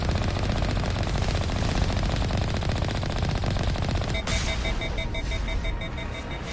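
A Geth turret firing in the video game Mass Effect, a rapid continuous rattle of automatic fire that runs unbroken, then gives way to a steady electronic beeping tone near the end.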